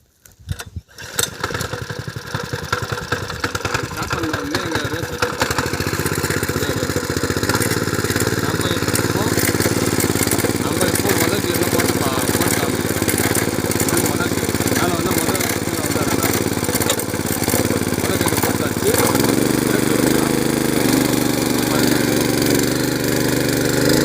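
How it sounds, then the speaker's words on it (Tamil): A power weeder's small engine is pulled to a start from neutral, sputtering into a loud, steady running roar close by that holds for the rest of the clip, with a shift in pitch near the end and people talking underneath. "நியூட்ரல் பண்ணிட்டு இப்போ நம்ம ஸ்டார்ட் பண்ணலாம்."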